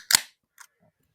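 A bottle of Cherry Bomb Blonde cherry ale gives a sharp, close pop as it is opened, followed by a fainter short hiss or clink.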